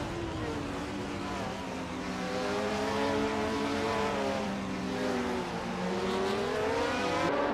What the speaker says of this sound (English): the race just kicked off at the Hungaroring Retro Track